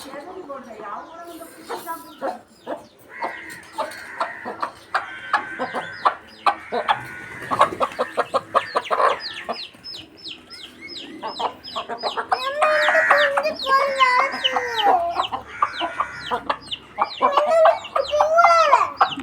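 Hens and a rooster cluck and squawk in a backyard garden coop, with busy, irregular calls near and far. Several people talk in the background.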